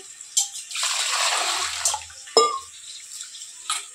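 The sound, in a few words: washing rice with water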